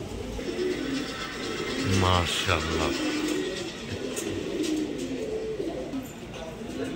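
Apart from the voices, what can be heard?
pigeons cooing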